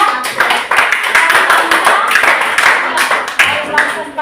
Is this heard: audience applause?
yes